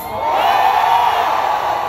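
A large crowd at a rally or service shouts together in one loud, sustained roar that swells up quickly and holds for nearly two seconds.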